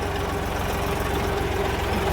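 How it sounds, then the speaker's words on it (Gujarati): A tractor engine runs steadily at close range, a continuous low, throbbing rumble with no pauses and no speech. "ભાણુભાઈ ટ્રેક્ટર ભરીને આવે છે."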